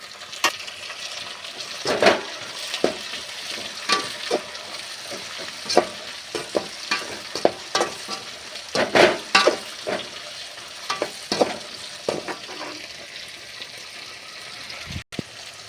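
Tomatoes go into a pan of hot oil with curry leaves, garlic and onion, producing a soft, steady frying hiss broken by frequent stirring clinks and scrapes of the spoon.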